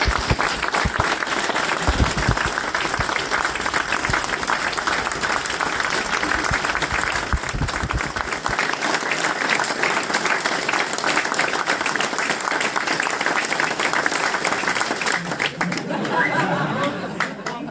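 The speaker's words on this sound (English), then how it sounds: "we're going to ask you to give us a round of applause" A live audience gives a sustained round of applause at a motorcycle dealer event held at a Yamaha dealership, steady dense clapping with crowd chatter mixed in, thinning toward the end.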